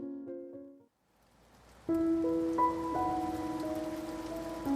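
Rain falls outside a cafe near a campus as a continuous soft hiss, joined partway through by gentle sustained musical tones, with no talking.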